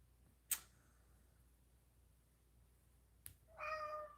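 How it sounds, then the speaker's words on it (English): A cat meows once near the end, a short, clear, fairly close call after two sharp isolated clicks in otherwise quiet room tone, no speech. "Meow."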